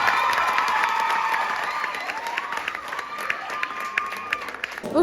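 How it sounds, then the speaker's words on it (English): An audience claps and cheers together, the applause loud and sustained at first, then thinning out with a few shouts near the end. "can we give them another round of applause?"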